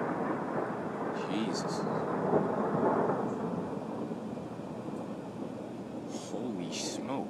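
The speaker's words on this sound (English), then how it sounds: "I've been hearing thunder, but that was the first lightning." Thunder from a March winter storm rolls as a long, low rumble that swells and fades in the distance, with a brief startled exclamation from a person.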